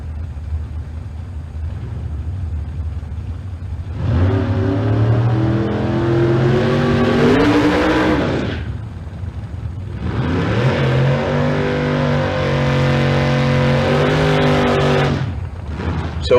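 A Super Pro door car at a drag strip revs its engine in two long, loud bursts, each climbing and holding a harsh roar before cutting off, with a quieter idle rumble between and before them.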